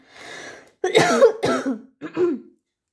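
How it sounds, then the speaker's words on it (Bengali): Coughing from an itchy throat: a softer rasp followed by three close, loud cough bursts with short gaps, each harsh and throaty, from one person alone. "জানি না আমার গলা খুসখુস করে কেন কাশি হচ্ছে"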